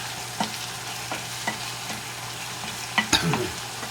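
Green beans cook in butter in a pan with a soft, constant sizzle, punctuated by a few sharp stirring taps and scrapes of a utensil.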